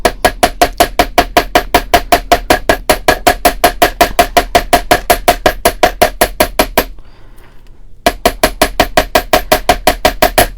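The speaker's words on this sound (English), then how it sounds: "ball peen hammer and my bench block and give it a little tiny whack" A ball peen hammer strikes a small metal leaf on a steel bench block in a rapid, even run of sharp ringing taps, pausing once for about a second before the steady hammering resumes.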